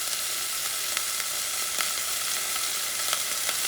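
Minced garlic sizzles steadily in a hot pan for a black bean and sausage stew, with a constant close frying hiss and soft scraping clicks as it is stirred.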